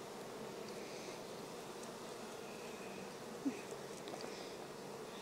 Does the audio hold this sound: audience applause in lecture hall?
no